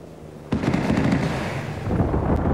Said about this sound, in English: Well, I hit six rockets.